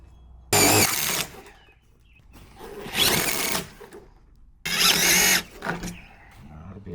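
A power drill drives screws into a fence gate while a new gate is installed in an existing fence, sounding as three loud whirring bursts of about a second each, separated by quieter pauses, close up and with no talking.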